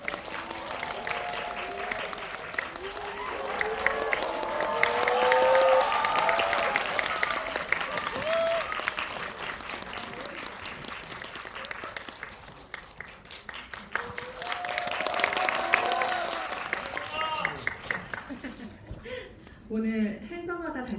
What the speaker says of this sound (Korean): 게스트들 입장하실 때 큰 환호와 박수로 세 분을 맞이해 주시기 바랍니다.